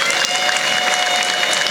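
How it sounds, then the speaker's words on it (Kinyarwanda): Church congregation clapping together in praise during a sermon, a dense, steady roar of many hands filling the room at close range for the whole moment. "Ako mwayimpera amashyi Imana"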